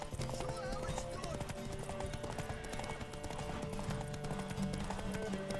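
Horse hooves clip-clop in a steady trotting rhythm over a dense soundtrack from The Witcher 3 video game, with an occasional whinny and voices in the background.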